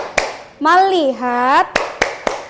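Several sharp, separate hand claps from the tepuk fokus clapping game in a classroom, struck in a quick rhythmic pattern, with a teacher's speaking voice in between them.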